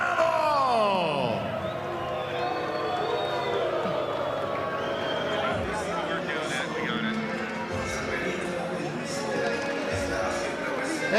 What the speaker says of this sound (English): they're booing him because it's a pro Cancio crowd